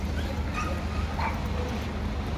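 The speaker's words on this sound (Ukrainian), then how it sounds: "Собака." A dog yips and whimpers in short bursts on a busy city square in Poland, fairly distant and mixed into steady street and crowd hubbub.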